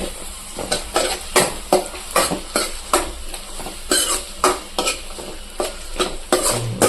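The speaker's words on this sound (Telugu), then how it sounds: "ముడేసేసి కలపాలన్నమాట కొంచెం బాగా కలపాలి" A spoon scraping and stirring chicken in a hot frying pan for a chicken curry, with rhythmic repeated strokes over a steady sizzle, close and fairly loud, no talking.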